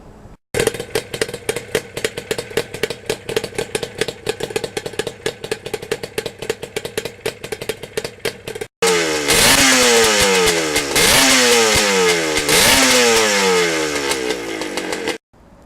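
Motorcycle engine running during a ride, fitted with a rear-facing camera mount: a loud, close, steady buzzing engine drone, then a harsher stretch with repeated rising and falling revs as the bike accelerates and shifts.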